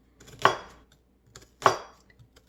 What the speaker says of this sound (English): I'm just going to do fine dices on the onion.